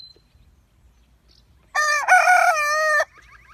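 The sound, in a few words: rooster crowing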